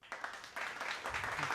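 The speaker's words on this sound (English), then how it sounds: "Applause for myself." A small group claps briefly in a casual garage bar setting, a short scattered burst of applause that swells and continues for a moment.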